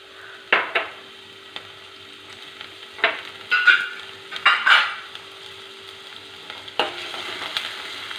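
Onion, garlic and ginger sauté in a pan for an okra masala curry, giving a steady close sizzle broken by several sharp stirring scrapes and clinks, with no talking.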